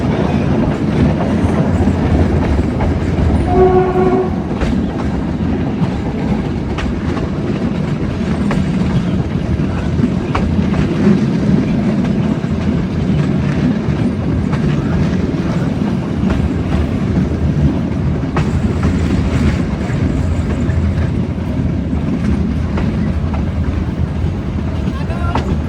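A meter gauge passenger train at Talala Junction in India, with a steady, loud rumble and rhythmic clatter of wheels on rail throughout, and brief voices under the noise.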